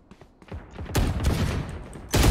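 Bursts of gunfire in an online multiplayer shooter match: scattered shots early, then a dense sustained volley and a final sharp burst, fairly loud, with no speech over them.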